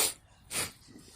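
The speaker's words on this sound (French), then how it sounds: "Excusez-moi si j'atchoum." One person sneezes with a sharp, breathy burst, a faint snort and breath before it, close and fairly quiet.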